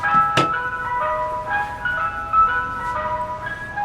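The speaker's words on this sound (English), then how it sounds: "Got the ice cream truck coming here." An ice cream truck passes nearby playing its bright, looping melodic jingle, the tune clear and steady over outdoor background noise, with a sharp knock near the start.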